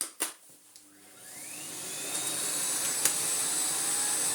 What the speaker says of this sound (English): But let's do some vacuuming.